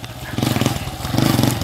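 A motorcycle pulls away nearby with a pulsing, throbbing engine note that rises in bursts as it accelerates, loud and close, with no talking.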